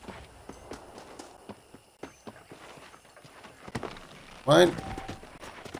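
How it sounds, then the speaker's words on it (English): Horse hooves clip-clop at a walking pace in Red Dead Redemption on PC, soft irregular thuds over quiet ambience, with a short spoken word near the end. "The horses are saddled up over here."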